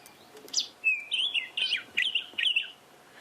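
A wild robin's call at dusk, heard as a series of about five bright, chirping phrases repeated in quick succession, fairly close and clear over quiet background with no talking.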